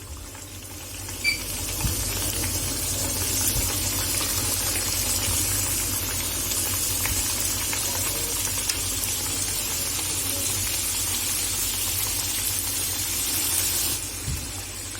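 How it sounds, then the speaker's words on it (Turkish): Hot oil sizzles and crackles steadily throughout as puf börek pastries fry, with a few small pops and clinks, close and continuous. "Yağım yeterince ısındı. Şimdi böreklerimizi kızartmaya başlayalım."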